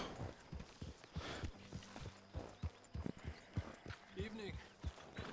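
Walking horse hooves clop steadily in Red Dead Redemption 2 at close range, under a voice talking through much of the stretch, with a brief whinny-like tone near the end.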